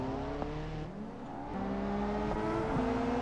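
A car engine in the BeamNG driving game revs and whines steadily through a drift, its pitch rising and falling as the throttle changes, with faint tire noise underneath and no talking.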